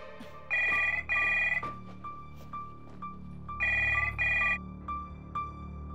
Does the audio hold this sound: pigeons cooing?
no